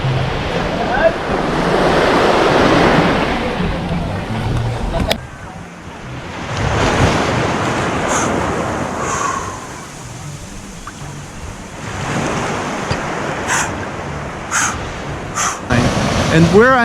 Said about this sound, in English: The ocean is still the predominant sound,